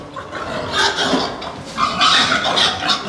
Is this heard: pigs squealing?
yes